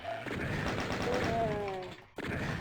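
Gunfire at enemies in DOOM (episode 3, map 4, Invasion) plays as a dense run of shots and mechanical clatter that carries to the end.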